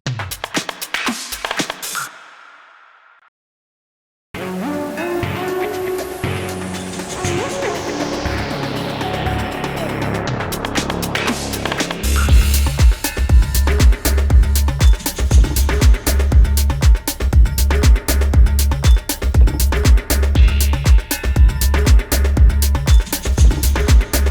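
A processed drum passage plays alone, a swelling sweep rising into dense, rapid hits with heavy low thumps driving steadily toward the end.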